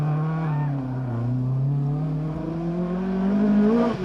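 Engine of a 15-year-old rally car at full race pace on a stage of the 1995 Cork 20 International Rally in Ireland, a loud, steady close-up drone whose pitch climbs and falls through gear changes without pause.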